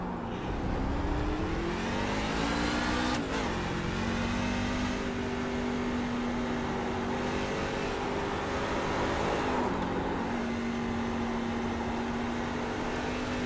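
A NASCAR Class C race car in the iRacing simulator at Circuit of the Americas, its engine droning loudly and steadily, pitch rising and falling through gear changes, with no talk over it.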